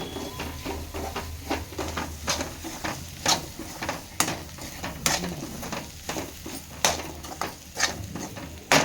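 A spoon stirs chicken masala into an egg curry in a pan, giving soft, steady scraping and sizzling with sharp clinks of the utensil against the pan every second or so.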